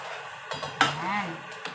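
Garlic sautéing in a pan for Filipino sardines with moringa leaves: a soft sizzle under sharp clinks and scrapes of a utensil stirring against the pan, with a voice murmuring briefly.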